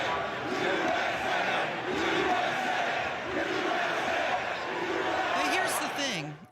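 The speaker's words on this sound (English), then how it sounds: "he was greeted with chants from the crowd of USA" Crowd at a Steelers versus Jets football game in Pittsburgh chanting USA, a played recording: a dense, sustained roar of many voices with rhythmic chant swells throughout, loud and continuous.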